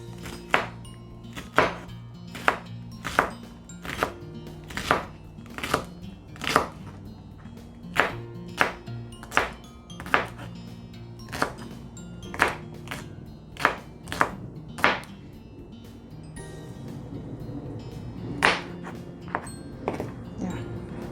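A knife chops through okra on a cutting board in a series of sharp, close thunks, steady at first then slowing and spreading out, with quiet kitchen background between strikes.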